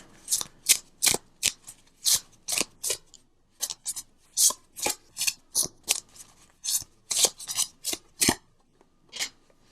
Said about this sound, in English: And I just pulled the major arcana cards to kind of bring it all together.